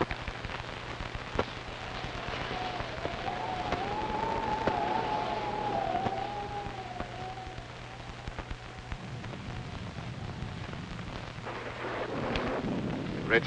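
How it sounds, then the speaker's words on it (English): Steady rain falls at night with low rumbles of thunder and scattered sharp cracks, a constant wash of noise with a faint tonal sweep through the middle. "It's liable to rain all night."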